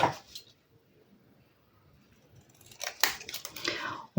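Paper cut with scissors for a craft project: one crisp snip at the start, then a quiet pause, then a close run of quick, sharp cutting snips near the end. No one speaks.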